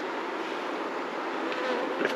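Buckfast honey bees in a nucleus hive, a dense continuous buzzing hum close by, steady and even throughout.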